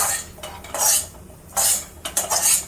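A spatula scrapes and clatters against a pan as spices are dry-roasted for spicy Nashik-style vajdi, coming in loud, close bursts separated by short quiet gaps.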